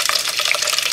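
Running water hisses steadily as dyed wool roving is rinsed, a close, continuous splashing flow with no break.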